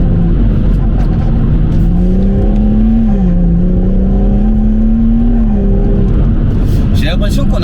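Engine of a BMW M140i with upgrades, a loud sustained drone that swells under acceleration and shifts pitch on downshifts, with someone talking over it throughout.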